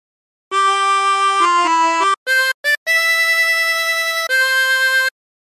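A 16-hole tremolo harmonica plays a short phrase of Battle Hymn of the Republic, a string of sustained, wavering reedy notes with brief breaks between them, close and clear with no talking.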